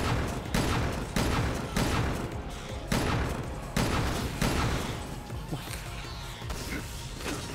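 A rifle with a shotgun attachment fires in a video game, giving a run of heavy, booming shots at a steady pace that stay loud and close, with a denser, muddier stretch toward the end.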